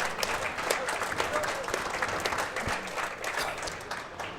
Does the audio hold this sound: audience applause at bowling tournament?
yes